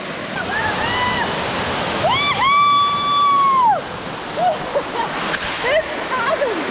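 A waterfall rushes and splashes in a constant, close roar, with excited voices calling out over it.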